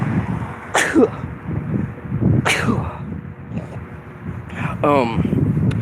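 Two sharp sneezes break through steady wind and road noise, followed by a brief voiced sound.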